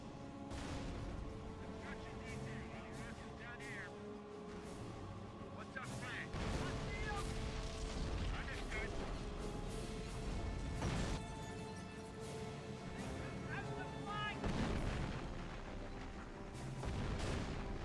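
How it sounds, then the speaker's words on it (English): Artillery or mortar shells crash in a video game war scene, a steady run of booming impacts and sharp cracks spread across the stretch, some near and loud, with voices talking underneath. "I've got a fucking artillery barrage or a mortar strike."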